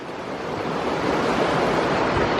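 Water rushes steadily beneath a wooden plank bridge in Theth, Albania, a continuous broad roar that swells slightly and holds close and loud throughout, with no voices.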